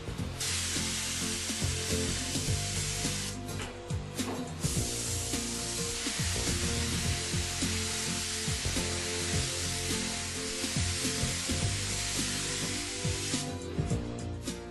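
Steady hiss of a spray gun applying effect paint onto wet colour blender on a Mercedes-Benz, continuous and close, with brief pauses between passes and faint clicks underneath.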